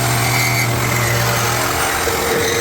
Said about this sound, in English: I'm going to use a metal cutting blade from my Sawzall, reciprocating saw